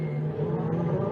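Ferrari Challenge race car at Monza, heard as a steady, loud engine drone held close throughout with no voices, the note staying even as the car runs along the outside of the track.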